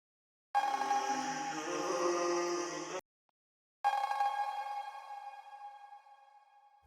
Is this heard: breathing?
no